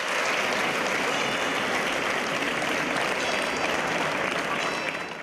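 A crowd at a march through a city square breaks into long, sustained applause, dense and loud from start to finish before fading slightly at the end.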